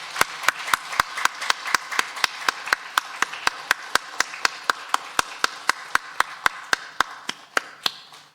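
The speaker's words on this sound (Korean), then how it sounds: "힘찬 박수로 영광 돌리겠습니다." A Korean church congregation at Sunday service claps in unison, a long run of evenly spaced, crisp claps at a steady brisk tempo that fade slightly toward the end.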